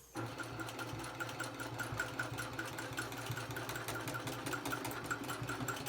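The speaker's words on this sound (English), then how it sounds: "A high speed straight stitch machine that doesn't like going slow." A high-speed straight-stitch domestic sewing machine runs slowly and steadily on a quilting frame, its needle thumping in an even rapid rhythm over a motor hum, close and continuous, with no talking.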